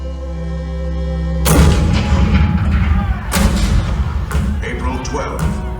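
A staged show effect of Civil War cannon fire at Fort Sumter, with a deep, loud boom bursting in after a quiet hum, followed by rumbling echoes and several more heavy thuds from the bombardment.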